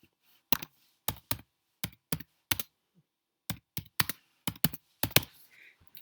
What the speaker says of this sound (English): And just going to type.